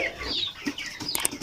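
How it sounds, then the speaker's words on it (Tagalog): Several 25-day-old broiler chickens cluck and chatter close by in a coop, with short overlapping calls and a faint rustle of movement. "ito na po yung ating mga alagang manok."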